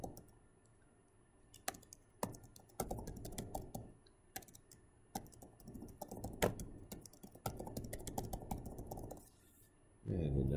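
Rapid clicking of a computer keyboard as a password is typed, bursts of keystrokes under a faint steady background hum, close and fairly quiet.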